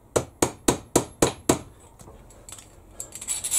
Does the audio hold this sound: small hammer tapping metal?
yes